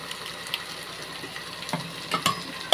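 Ginger and garlic sizzle steadily in hot oil for a chicken gravy, a constant close hiss with a few soft stirring clinks and scrapes toward the end.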